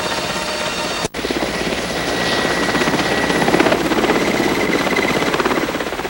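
A helicopter drones loudly and continuously overhead, its rotor chop pulsing steadily in a dense broadband roar that swells slightly midway, with a brief dropout near the start.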